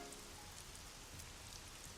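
Steady rain pours down in the video game Troubleshooter: Abandoned Children, a dense, even hiss of drops on surfaces that runs unbroken from start to finish with no voices.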